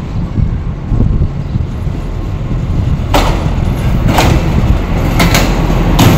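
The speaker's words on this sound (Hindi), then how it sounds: "ये देख रहे हैं दोस्तों ये आ रही है क्रेन," A railway crane train used for derailment recovery rolls along the tracks close by. It makes a loud, continuous low rumble, and sharp metallic clanks and rattles start a few seconds in and repeat.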